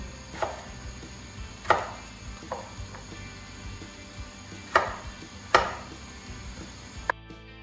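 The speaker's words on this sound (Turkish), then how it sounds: "4 adet patatesimizi doğradık." Sparse knife chops dicing potatoes into cubes on a cutting board, about six sharp thuds at uneven intervals, with quiet kitchen background between them.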